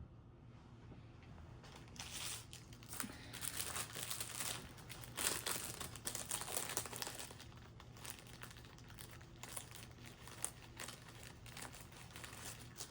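Crochet market items being packaged up with stickers, producing continuous close crinkling and rustling of plastic packaging, fairly soft and uneven, with no talking.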